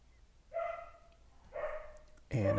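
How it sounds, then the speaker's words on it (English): Dogs bark in the background of a home, three separate barks spaced about a second apart, quiet and somewhat distant. "I've got dogs barking"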